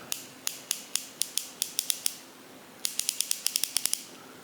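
Crisp clicks from a fine-toothed PB Swiss ratcheting T-handle bit holder in two bursts, a slower run of evenly spaced ticks, a pause, then quicker clicking, close up and fairly quiet.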